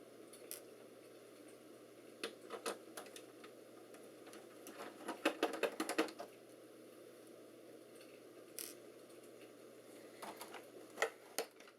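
Screws being removed from a Dell Inspiron 9100 laptop, faint close-up clicks and small metallic taps in scattered bursts, with a brief cluster of scraping ticks partway through, very quiet and without speech.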